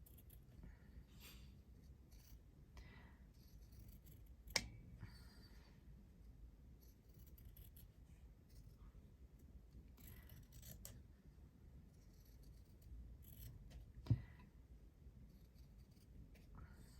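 Scissors cut fabric for an embroidery stitchery page in quiet, close snips and soft rustles, with two sharper clicks standing out amid faint handling noise.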